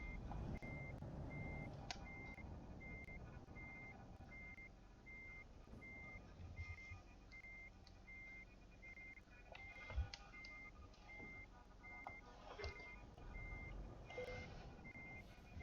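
Reversing alarm of a truck in Euro Truck Simulator 2, a steady evenly spaced beep repeating throughout over the low rumble of the idling engine, with occasional clunks and knocks.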